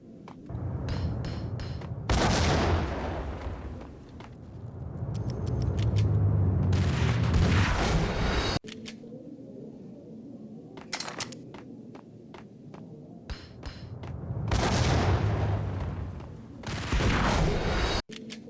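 Grenade explosions and gunfire in the Max Payne video game: heavy booming blasts alternate with rapid bursts of shots and scattered single cracks, loud and dense throughout, with a short quieter stretch between the blasts.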